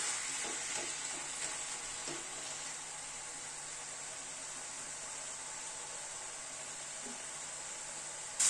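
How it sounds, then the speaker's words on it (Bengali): Shredded cabbage sautéing uncovered in a pan over a medium gas flame, a steady soft sizzle with faint scraping stirs, no voices. "এবার ঢাকনাটাকে খুলে দিয়ে গ্যাসের ফ্লেমটাকে মিডিয়ামে রেখে বাঁধাকপিটা কষিয়ে নেব"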